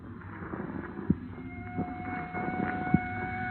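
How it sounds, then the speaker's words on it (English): Police car sirens wail in a 1950 radio crime drama set out in the country, held as steady high tones at moderate volume beneath a busy backdrop of scene noise and occasional thumps. "Even out in the country, they got to lay on those sirens."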